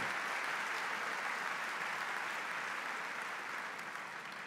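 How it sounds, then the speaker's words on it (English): Sustained applause from a large audience at a university undergraduate winter commencement ceremony, a steady dense wash of clapping that holds throughout and fades slightly at the end. "Would you give them a round of applause?"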